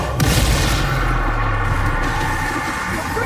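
A Bombarda spell explosion in the video game Hogwarts Legacy hits as a loud, sudden boom that rolls into a long, dense rumbling roar, sustained and heavy for several seconds.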